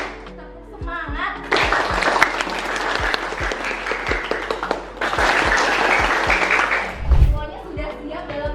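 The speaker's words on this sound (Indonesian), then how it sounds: "tepuk semangat 1 kali, 2 kali, 3 kali, 4 kali" A classroom of students, led by a teacher, claps a rhythmic cheer in quick bursts of counted hand-claps. The bursts are separated by short pauses, and the teacher's voice is heard between them.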